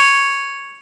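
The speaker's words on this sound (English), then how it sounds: "Sorry, that was my phone." A phone notification chime rings once, a bright bell-like ding that rings out and fades over about a second, clear and close with no voices.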